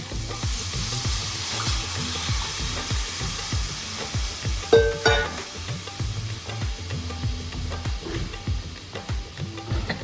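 Fish fries in a pan for a Nellore village-style fish curry (chepala pulusu) as tamarind juice is poured in, a dense steady sizzle with stirring clatter and a brief metallic clink partway through.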